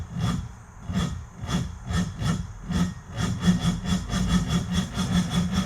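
An abandoned 60-year-old motor cranks slowly on a fresh battery, a labored rhythmic churning of about two strokes per second, close and steady throughout without catching.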